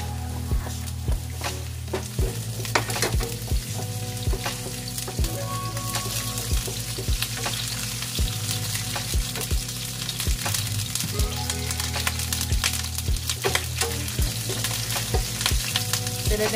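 String beans and onion sizzle steadily in hot oil in a pan, with repeated scraping and stirring clatter throughout, close and fairly loud.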